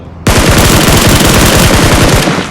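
Automatic gunfire from the mobile battle royale game PUBG Mobile rattles out in one long, loud, rapid burst of evenly spaced shots that fills the whole stretch before cutting off.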